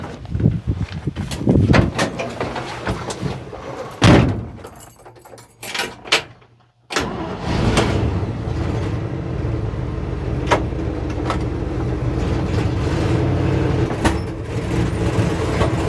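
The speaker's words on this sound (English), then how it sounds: "I'm gonna go drive my pickup." A 1964 Chevy C10 pickup: keys jangle and a door opens and thuds shut, then the old engine starts and settles into a loud, steady running drone as the truck pulls away.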